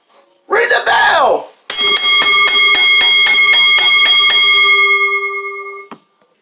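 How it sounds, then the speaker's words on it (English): Wrestling ring bell rung rapidly after an ECW World Championship extreme rules main event, about ten sharp metallic strikes in quick succession with a long ringing tail, preceded by a loud burst of shouting crowd and commentary. "Ring the bell!"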